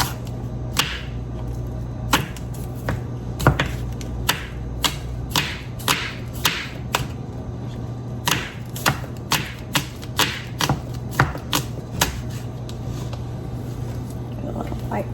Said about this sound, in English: we are going to cut up these halfway up through the green portion of it